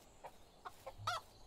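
Chickens in the medieval farming game Medieval Dynasty give a few soft, short clucks, faint and somewhat distant, over a quiet background with no talking.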